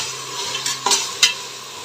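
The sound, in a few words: onions and tomatoes sautéing in a pan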